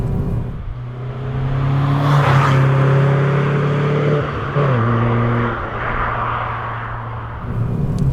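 A Renaultsport Twingo 133 with a naturally aspirated engine accelerates hard, its loud rising engine note climbing through the gears with a brief dip at a shift before pulling on, heard alone without talk.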